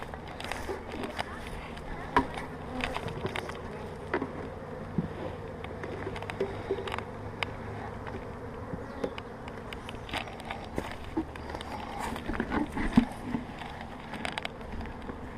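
Honeybees buzz around a green hive in spring, a steady droning hum with scattered louder passes near and far throughout, with speech faintly mixed in.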